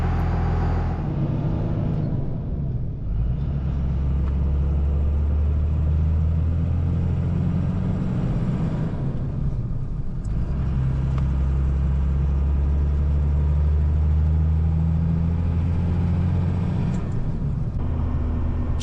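A 2nd Gen Cummins diesel pickup with an old six-speed manual drives on a test run: a loud, steady low engine drone with brief dips as gears shift, heard close from inside the cab.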